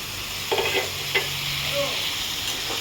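Potatoes, tomatoes, aubergine and onions sizzle in a pan while a utensil scrapes and stirs them, with a few clinks against the metal over a continuous frying hiss.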